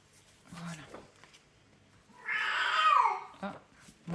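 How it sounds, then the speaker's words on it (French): A pet cat, an old female, lets out a loud, drawn-out meow with a falling wail in the middle of the clip, framed by brief quiet talking before and after. "Ah, mon chat."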